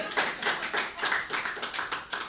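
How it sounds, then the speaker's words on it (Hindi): Audience applause at a Hindi kavi sammelan poetry gathering, a steady crowd of many hands clapping at a quick, even rhythm, moderately close and alone without talk. "बम्बई वाले कुत्ते ने जो जवाब दिया उस पर आपकी तालियां उठनी चाहिए।"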